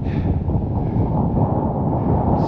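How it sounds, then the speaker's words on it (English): Cold easterly wind buffets an exposed moorland wild campsite in the Cheviots, a steady loud roar with low rumbling gusts pressing continuously against the microphone. "It's cold wind, it's easterly"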